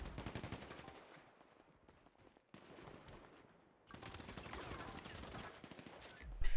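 Rapid automatic gunfire in an online shooting video game, sustained bursts of loud crackling shots that keep rolling for several seconds with only a brief dip in intensity.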